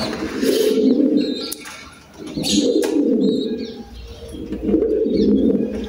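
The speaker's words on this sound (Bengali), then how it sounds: "আমার কবুতরগুলো" Pigeons coo in repeated low, rolling phrases on a rooftop loft, close and steady, with a few brief flutters and chirps between calls.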